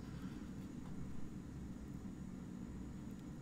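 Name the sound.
supporting planes flying in, from a video game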